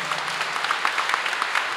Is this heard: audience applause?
yes